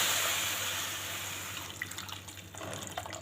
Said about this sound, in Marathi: मी गरम पाणी घालते.